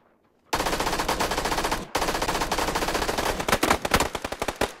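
Rapid automatic gunfire in the video game PUBG, a dense, sustained burst that breaks briefly, resumes, then thins into separate sharp shots toward the end; loud and close with no talk over it.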